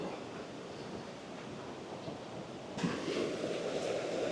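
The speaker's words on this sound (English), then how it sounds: "it is quite loud with this moving water" Loud rushing water in a national park at night, a steady broad roar that stays constant throughout and swells slightly louder partway through, with no voices.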